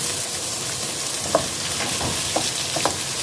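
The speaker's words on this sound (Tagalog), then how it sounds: "Ayan, nagisa na natin yung ating kamatis." Tomatoes sautéing in a hot pan for beef pochero, a steady close sizzle with a few soft stirring scrapes and clicks scattered through, no voices.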